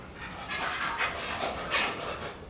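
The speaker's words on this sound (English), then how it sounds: "that's my dog that can't get a frisbee off the ground." A dog pants quickly and rhythmically close by in a garage setting, soft breathy huffs repeating steadily with no talking.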